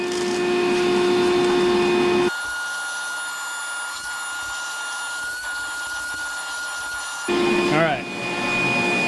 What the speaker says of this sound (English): Just wanted to vacuum the drain a little bit to clean it up before the stuff dried